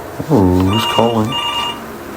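A telephone rings in the video game Before Your Eyes: a short, loud electronic ring in two bursts with a brief gap between them, then a quieter tail.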